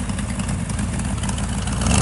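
A 1932 Ford three-window coupe street rod idles through header exhaust with mufflers fitted in the headers, giving a steady, loud, close engine rumble with even low-end pulsing and no talk.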